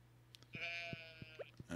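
Sheep bleating in the farm video game Stardew Valley, a few short game-sound bleats over a steady low electronic hum, clear and moderately close with no voices.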